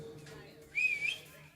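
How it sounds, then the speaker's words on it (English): A person whistles a short, bright tune of roughly half a second at a small open mic, fairly close and faint against quiet room noise, with no talking over it. "Do any of you guys know how to whistle?"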